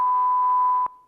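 A steady electronic ringback tone from a phone call to a parcel recipient sounds loud and clear, then cuts off abruptly with a short fading tail.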